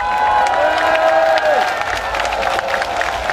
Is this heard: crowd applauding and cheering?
yes